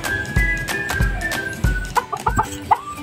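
Pet chickens cluck softly and repeatedly at close range around an egg-laying nest, short clucks coming in an uneven rhythm over some light bumping and shuffling.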